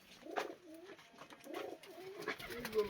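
Giribaj high-flying pigeons in a home loft coo in soft, repeated throaty phrases close by, several overlapping calls rising and falling over about three seconds with no talk.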